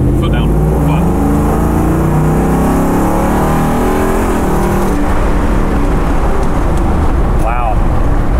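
A restored Ford Bronco accelerates hard with a loud, continuous engine roar and rising revs, heard close from inside the vehicle with strong wind and road noise throughout.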